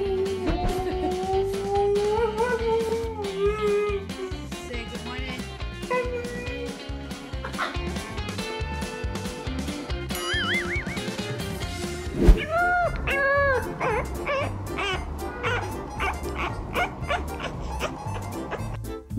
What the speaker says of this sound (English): There's so many dogs.